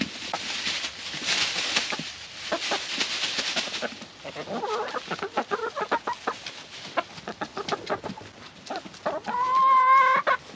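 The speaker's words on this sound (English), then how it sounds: "Well, that's some pretty happy chickens." Backyard homestead hens cluck and chatter steadily at close range, with scattered sharp calls and one loud drawn-out squawk near the end.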